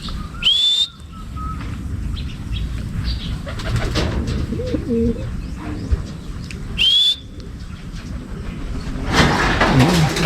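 Pigeons at a club loft, including a blue bar, cooing in soft low throaty phrases over a busy outdoor background, with a couple of sharp whistles cutting through.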